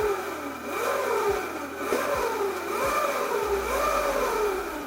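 A 1200W 48V electric cross bike motor runs steadily on test, a continuous mid-pitched whine with faint rising and falling hum and a few soft clicks, close by and alone.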